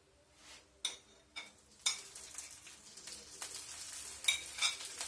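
Peppers and egg go into bread in an oiled pan and sizzle softly. A few sharp scrapes and clicks of a utensil punctuate the quiet frying.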